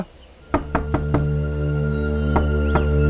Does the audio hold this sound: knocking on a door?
yes